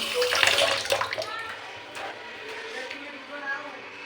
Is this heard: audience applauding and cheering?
no